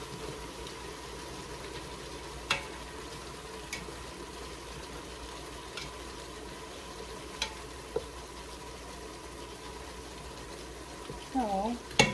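Beef chunks fry in a pot for caldo de res, a Mexican beef stew, giving a faint, steady low sizzle with a few scattered pops and small clicks.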